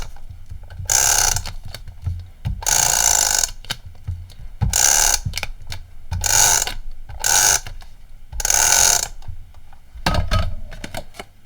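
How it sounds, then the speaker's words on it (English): A tape runner adhesive applicator is run repeatedly across card, giving a series of close, ratcheting clicky rolls in short bursts of about a second each, separated by brief pauses, with no talking. "On this one I'm just going to use my tape runner."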